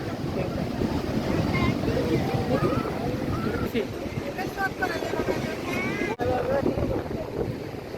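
Surf rolls and crashes onto the beach at Cox's Bazar on the Bay of Bengal during a low-pressure system, a steady, loud wash of churning water and wind with voices talking over it.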